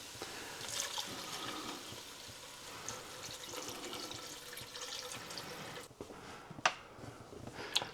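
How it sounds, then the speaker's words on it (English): Tap water pours steadily into a pot of tomatoes and lentils for Italian lentil soup, a continuous close rushing splash that stops near the end, followed by a few light clinks. "Next we add enough water to cover the tomatoes and lentils by about 1 inch."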